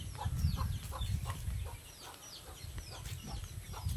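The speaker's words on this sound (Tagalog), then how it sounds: "Itong manok ko, hingi ng pagkain." A backyard chicken clucks for food near rice fields, repeated short clucks over a low rumbling outdoor background, fairly faint and steady.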